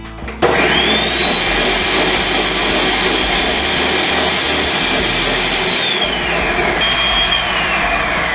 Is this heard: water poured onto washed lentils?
no